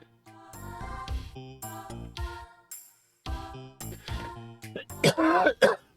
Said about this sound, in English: Why have I started coughing now?